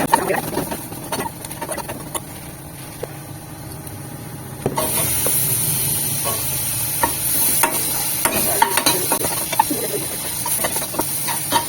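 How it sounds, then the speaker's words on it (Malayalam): Spices such as cumin and turmeric frying in a pan are stirred, with repeated scraping and clattering strokes over a steady sizzle that grows louder partway through. No one speaks. "നന്നായിട്ട് ഇളക്കാം."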